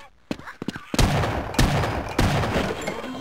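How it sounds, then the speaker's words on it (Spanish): Gunfire in the video game Half-Life: a few sharp single shots, then bursts of heavy rapid fire and loud booming impacts, close and harsh, with a brief voice near the start. "tres tiros y me ha reventado"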